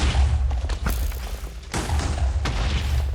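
In Minecraft, explosive skulls from the wither's heads burst as a string of heavy booms and thuds across a few seconds, with a loud low rumble throughout.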